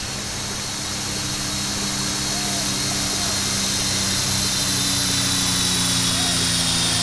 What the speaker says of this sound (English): considering how low that plane is flying, that is absolutely not a plane sound